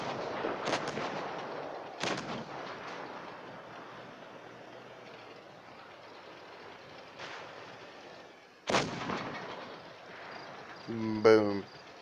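KV-2 tank cannon fire in a video game battle: several heavy booming shots spaced a few seconds apart, each followed by a rumbling decay, with a brief voiced sound near the end.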